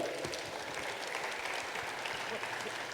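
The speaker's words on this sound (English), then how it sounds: "Big clap to him." A summit audience gives a speaker a round of applause, a soft, even wash of clapping that holds steady for a few seconds at a modest distance.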